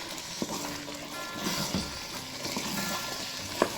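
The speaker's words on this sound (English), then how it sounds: "So I will stir it together." Black turtle beans and yam being stirred in a pot give a soft, wet sizzling and scraping, with a few faint clicks of the spoon against the pot.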